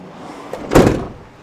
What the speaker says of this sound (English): So when you shut the door, that door is then locked.